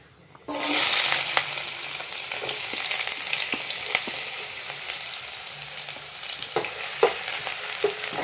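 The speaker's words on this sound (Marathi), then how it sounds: "कांदा परतून कांदा मंडई लाल होईपर्यंत भाजून घेऊया" Onion drops into hot oil in a kadhai and bursts into a sudden loud sizzle that settles into steady frying, broken by occasional spatula taps and scrapes against the pan.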